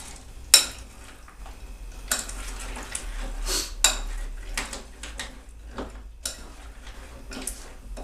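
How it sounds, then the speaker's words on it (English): A big spoon stirring peanut butter fudge mix in a bowl, with irregular clinks and scrapes against the sides, several sharp knocks standing out over a soft swishing, close by and without speech. "take your big spoon and just stir it all around"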